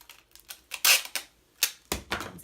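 Strips of tape pulled and pressed onto paper while assembling dollar-store floral letters for wedding party decorations, a series of sharp crackling rips and taps in irregular bursts, close and fairly loud.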